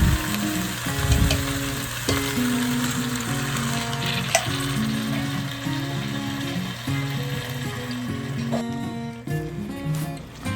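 Chicken cooking for Tausug-style chicken piyanggang sizzles and fries steadily in a pan after water is poured in, a continuous close hiss with faint stirring clinks and no talk.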